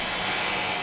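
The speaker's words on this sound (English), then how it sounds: "Does your garage door sound like this?" A loud, steady grinding roar from a noisy garage door, continuous and harsh throughout with no voices.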